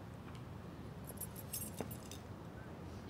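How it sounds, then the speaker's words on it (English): Keys thrown in the video game Life Is Strange, a few light metallic jingles and a clink over a steady background hum, fairly faint. "She just threw Frank's keys."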